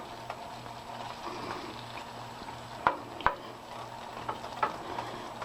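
Red peppers, onions and green peppers frying in butter in a pan, giving a soft, steady sizzle close by, broken by a few sharp clicks and taps of a utensil against the pan.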